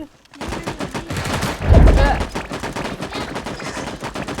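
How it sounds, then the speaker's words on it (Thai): Rapid gunfire bursts in the mobile shooter game Sausage Man, quick repeated shots with a heavier impact in the middle, close and loud, with a player's voice talking over it. "อ้าวยิงใครวะยิงเยอเลย"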